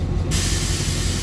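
Air suspension on a bagged 1964 Impala SS deflates, a loud, steady hiss of escaping air that starts abruptly and continues without break at close range.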